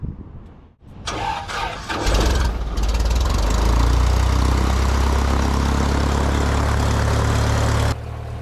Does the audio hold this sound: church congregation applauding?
no